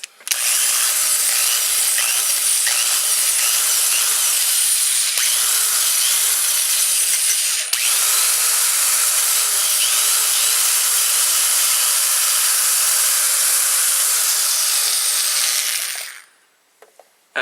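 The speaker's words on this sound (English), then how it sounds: "I will just drill a hole through the screw." A power drill bores steadily through a screw while working on a Sony or Sanyo Betamax VCR, a loud, continuous whine holding for about sixteen seconds before it stops abruptly, with no talking.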